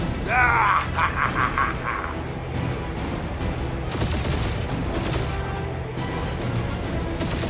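Rapid gunfire and explosive impacts from a spaceship battle in the Guardians of the Galaxy video game, dense and loud, with game music and voices in the mix.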